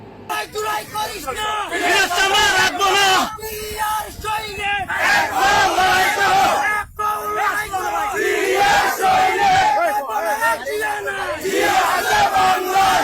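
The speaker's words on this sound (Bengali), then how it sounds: "তারা এখানে স্লোগান দিচ্ছে জুলাই জুলাই করিস না, পিঠের চামড়া রাখবো না" Crowd chanting political slogans in unison at a BNP street procession, loud and continuous, with rhythmic shouted bursts from many voices close by.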